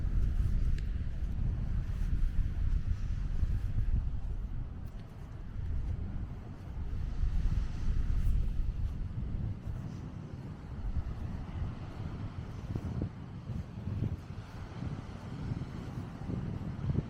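Steady wind buffets the microphone on Gazipaşa beach in Antalya, a continuous low rumble that swells and eases for the whole stretch, with faint surf-like wash blended underneath.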